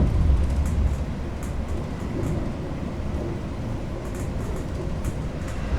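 Steady low rumble of the Argo Parahyangan passenger train rolling along the rails from Bandung to Jakarta, with a continuous dense roar and faint rattling high clicks throughout, no voices.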